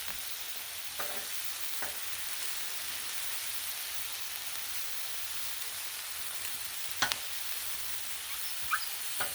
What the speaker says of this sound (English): So we're getting our sear on